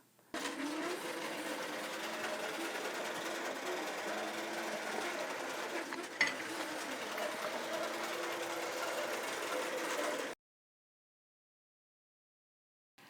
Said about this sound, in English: brought my bobbin thread up to the surface, and now I can just tap sew.